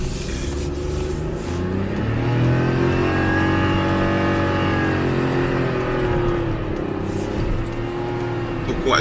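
An Ativa car engine revs continuously up and down in pitch, loud and close, with a rough, droning tone throughout.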